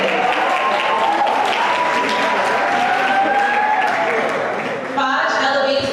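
A crowd applauds steadily and loudly for several seconds at a high school honors convocation, a dense wash of clapping that briefly dips before continuing.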